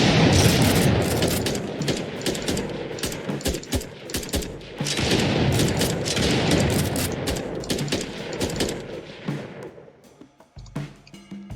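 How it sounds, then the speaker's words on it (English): Guns fire in an Unreal Engine 4 third-person team shooter game, a dense, loud stream of rapid automatic bursts that runs for about ten seconds before cutting off into a few scattered shots. "In this video, I show how to make the player and AI bot shoot."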